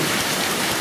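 Steady rain from Tropical Storm Beryl pours down in a dense, even hiss, close and moderately loud, with no voices.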